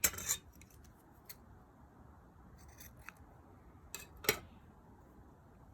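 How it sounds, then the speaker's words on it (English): Several quick, crisp snips of scissors cutting yarn after crocheting, close and quiet, spaced irregularly over a near-silent background. "you're just going to chain 2 and cut your yarn"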